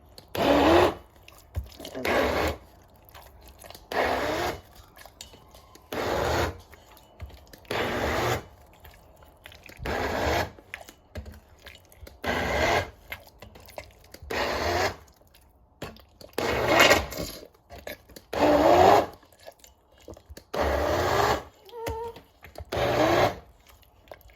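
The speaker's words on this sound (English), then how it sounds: "now I'm just gonna take my immersion blender to it" An electric immersion blender blending homemade dog food whirs in repeated short bursts, about a dozen pulses with brief pauses between, loud and close with no talking.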